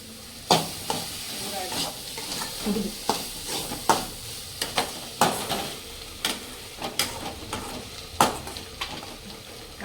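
Bitter gourd poriyal being stir-fried in a pan, with a steady low sizzle broken by a series of sharp, close spatula scrapes and clacks against the metal at irregular intervals, no talking.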